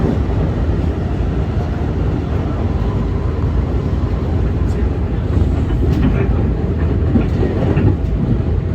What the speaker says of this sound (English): we find ourselves hitting the joints at Queens interlocking